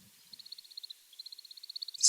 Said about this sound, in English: this chittering noise here, as you'll see, increases in frequency